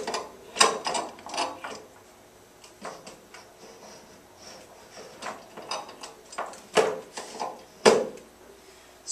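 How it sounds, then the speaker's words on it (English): A Thompson OmniGlobe projector swung around and seated onto the center peg of its base: close, irregular mechanical clicks, knocks and scraping rattles of plastic parts, with louder clunks near the end and no talking. "swing the projector around until it seats itself on the peg that's in the center of the OmniGlobe base"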